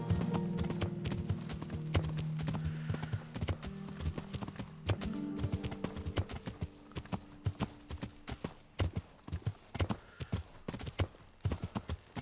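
A horse's hooves clip-clop at a steady riding pace in the medieval video game Kingdom Come: Deliverance, close and rhythmic, with a soft tonal background fading out early on.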